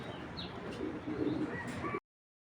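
Racer pigeons coo softly in a loft, low throaty burbling calls repeating close by, with a few faint chirps over light background noise before the sound cuts off abruptly.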